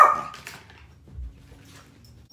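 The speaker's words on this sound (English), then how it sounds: "Someone's lost their little dog." A small dog gives one sharp, fairly close bark at the start, followed by faint, softer yips or whimpers in a quiet room.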